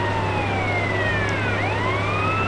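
Police car siren in the GTA San Andreas video game, a loud wailing tone sweeping down and back up over a constant engine drone.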